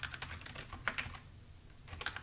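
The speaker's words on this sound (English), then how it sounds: "And we'll type something in here." Typing on a computer keyboard while entering a property address into a court filing form, with steady clusters of soft key clicks and a few sharper strokes, close and alone without talk.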